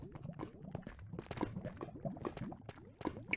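Water bubbling and trickling in a video game, a faint continuous liquid burble with small irregular drips and pops, with no voices present.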